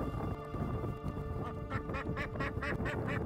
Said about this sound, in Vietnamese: Mình phải phụ thuộc vào con vịt tất cả.